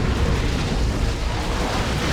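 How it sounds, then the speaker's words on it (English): Creeping Barrage artillery explosions in the strategy game Dawn of War 2, a continuous rumbling roar of overlapping blasts, loud and dense, with no pauses. "Creeping Barrage coming on in."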